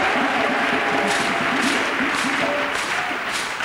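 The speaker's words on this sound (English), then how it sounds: "Acclame pour Jésus. Clap for Jesus." A church congregation claps together, loud and steady, with sustained music or organ-like tones running underneath.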